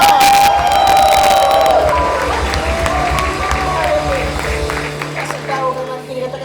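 A church congregation at GBI Marina Plaza in Manado shouts and cheers loudly together, a crowd roar mixed with voices that fades gradually toward the end.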